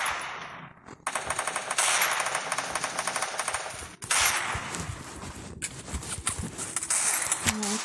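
Rapid bursts of automatic gunfire in a shooter video game, loud and dense, broken by short pauses and single cracks, with background game sound throughout.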